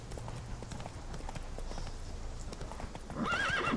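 A horse in The Witcher 3 trots with steady clip-clop hooves throughout, then lets out a clear whinny near the end, loud and close amid game ambience.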